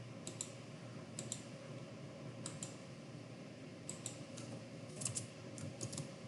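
Computer keyboard keys typed and clicked while copying and pasting: quiet, close, irregular clusters of crisp clicks and taps over a low hum of room noise, with no talk.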